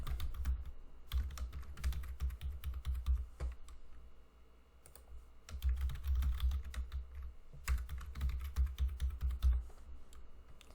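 A password is typed on a computer keyboard, with rapid, close-up clicking keystrokes in two steady bursts and a short pause between them.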